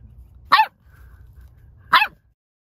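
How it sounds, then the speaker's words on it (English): A rescue dog barks twice, a couple of seconds apart, sharp and close, with quiet rumbling background in between. "Introduction of Maggie, the rescue dog."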